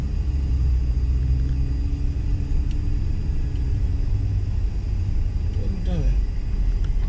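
Low, steady car engine rumble at close range as the vehicle pulls up into a parking spot, with voices talking over it and a brief whine near the end.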